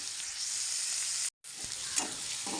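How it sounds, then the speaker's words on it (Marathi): Garlic, onion and chili frying in a pan make a loud, steady hiss close up. The sizzle cuts out for a moment, then resumes with a few stirring scrapes. "आता एक 5 मिनिटं फ्राय करून घेते"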